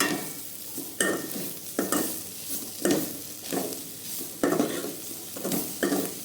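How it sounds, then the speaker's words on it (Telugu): Bitter gourd fry with home-made spices and a little garam masala is stirred in a pan. Rhythmic scraping strokes land about once a second over a frying sizzle, with occasional utensil clinks. "ఇవన్నీ వేసుకొని ఇప్పుడు మనము బాగా కలుపుకోవాలి"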